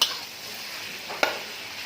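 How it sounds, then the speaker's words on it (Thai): Pork belly being stir-fried with chili and garlic in a pan, a brief steady sizzle with a soft scrape of a spatula near the end, close and alone. "ผัดให้เข้ากันก่อนนะครับ เพื่อให้ เครื่องปรุงของเรานั้น เข้าไปคลุกเคล้ากับ3ชั้น"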